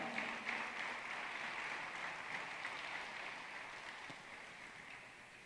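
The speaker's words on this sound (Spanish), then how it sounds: "Fuerte el aplauso al Señor" A church congregation applauds, a soft continuous wash of clapping heard at a distance that slowly fades over several seconds.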